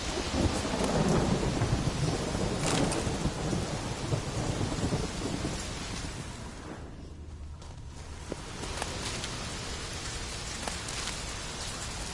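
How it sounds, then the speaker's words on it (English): A heavy thunderstorm in The Witcher 3 video game, steady loud rain hissing throughout with rolling thunder rumbles, dipping briefly midway before the downpour continues. "Storm, damn it."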